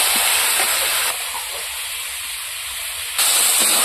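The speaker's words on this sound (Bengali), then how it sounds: "এবার ভেজে রাখা আলুগুলো দিয়ে দেবো আর একটু সময় কষিয়ে নেব।" Chicken and fried potatoes sizzle loudly in hot oil while being stir-fried, a steady bright hiss that drops to a quieter stretch in the middle and then flares up again. No one speaks.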